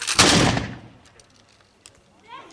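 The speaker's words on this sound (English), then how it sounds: "And just like that, they give fire." A single loud volley of musket fire from Continental Army reenactors at Fort Ticonderoga cracks at once and rolls away into a fading echo, followed by faint distant sounds.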